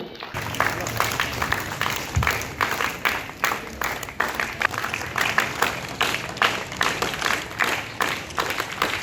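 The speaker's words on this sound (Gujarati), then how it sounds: "તાળીઓથી વધાવી લઈએ" A crowd at an Independence Day civic ceremony claps steadily in sustained, even applause that fills the whole stretch, fairly close and loud.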